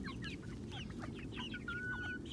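Chickens in a mixed outdoor flock of Spitzhauben and Legbars, several clucking in quick overlapping bursts, with one drawn-out call near the end. They sound moderately distant against a constant low rumble.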